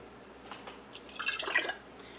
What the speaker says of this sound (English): I'm going to start off with tomato sauce.